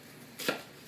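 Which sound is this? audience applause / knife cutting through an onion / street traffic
knife cutting through an onion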